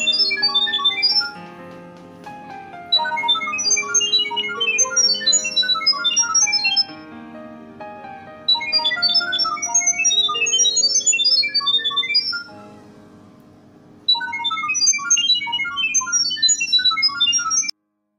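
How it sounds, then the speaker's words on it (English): A mobile phone held near a D1002W camera plays a repeating electronic melody of bright chiming notes during setup, running in loud phrases with short gaps between them and no talk. "Phone will produce music sound."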